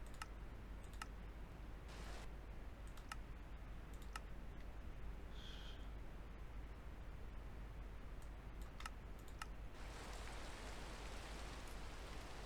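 Steady, faint rain falls in Minecraft with the SevTech Ages modpack, a soft continuous hiss broken by scattered sharp clicks and ticks.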